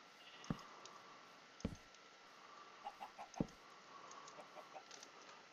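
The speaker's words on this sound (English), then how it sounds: "That's a chicken." Chickens clucking in the Minecraft video game, a few sharp, short clucks and clicks scattered over a quiet background, moderately near with no talk.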